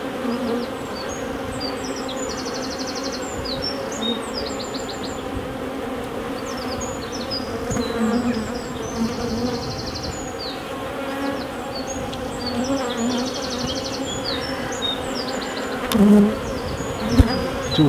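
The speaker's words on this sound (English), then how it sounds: "There's a bee there, look, with red pollen." Honeybees hum in a steady, dense buzz close by while brood frames are moved into nucleus boxes, with the drone continuing throughout and no voices.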